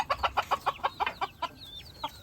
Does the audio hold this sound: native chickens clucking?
yes